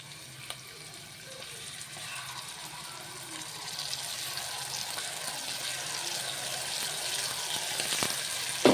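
Ginger-garlic paste frying in oil for a chicken masala curry, a soft, fairly quiet sizzle that swells gradually, with faint clinks near the end and no talking.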